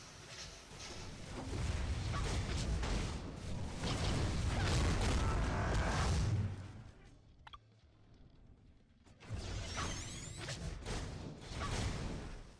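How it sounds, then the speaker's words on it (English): Explosion in the mobile game Marvel: Future Fight, heavy booming rumbles with whooshing swells and thuds that rise, drop away briefly, then surge again, fairly loud game effects. "Explosion."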